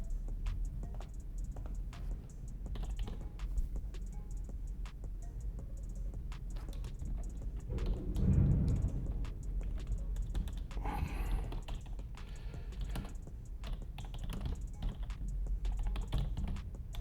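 Someone typing on a computer keyboard indoors, a steady run of quick light clicks and taps over a constant low room hum, with no one speaking.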